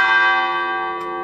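An old church bell in Guardialfiera, Italy, rings out loud and near, a single sustained metallic tone with rich ringing overtones slowly fading, and a light tap near the end.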